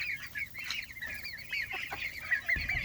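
Several chickens cluck and chatter steadily inside a chicken tractor, a fairly close, continuous stream of short fowl calls with a rooster-like tone, and no talking.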